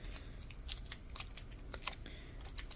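Scissors snipping paper to make a small book cover, a quick run of crisp, close cuts in an uneven rhythm with no talking.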